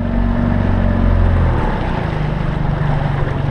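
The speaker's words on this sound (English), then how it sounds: "Hold it, go fast with the trolling motor." A fishing boat underway with its electric trolling motor running fast over rocky water, giving a steady low hum and rushing churn that shifts in pitch midway and continues without talk.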